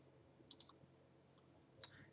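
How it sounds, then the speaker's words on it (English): A software filter button is clicked with a mouse, giving a few faint, sharp clicks: a quick pair near the start, then a single click a little over a second later, against a quiet background. "I click on filter"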